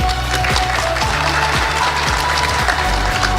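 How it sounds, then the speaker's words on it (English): Audience at a national ICT summit applauds, dense continuous clapping from a large crowd, loud and steady with no pauses, heard alone without talk. "I think that deserves a round of applause"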